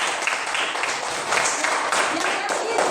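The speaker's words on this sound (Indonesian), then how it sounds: "Oke, tepuk tangan untuk Fiona." A class applauding a student after her answer, a steady wash of clapping from many hands that fills the whole stretch, with voices mixed in.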